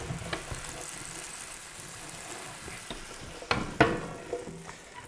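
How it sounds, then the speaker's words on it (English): Carrots tumbling into a pot of coq au vin bring faint sizzling and stirring, with a few sharper clatters and knocks near the end, the cooking sounds low and steady throughout. "We have to add the carrots to the pot."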